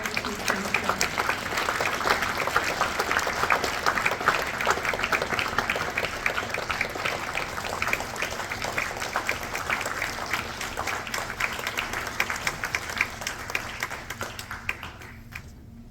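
A crowd at a Folds of Honor presentation claps for the recipients, a long, even stretch of applause that stays steady and then cuts off abruptly.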